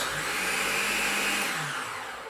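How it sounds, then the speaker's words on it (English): A food processor pulsing sugar and flour for mango cream cheese scone dough, a short steady whirring burst up close that winds down at the end. "Put all that in, give it a pulse, not a blitz, just give it a pulse"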